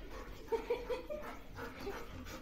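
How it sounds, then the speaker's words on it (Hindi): A dog whimpering like a puppy, a few short high whines close by, faint against quiet room sound. "इसका पिल्ला हो जैसे ऐसे रो रहा है।"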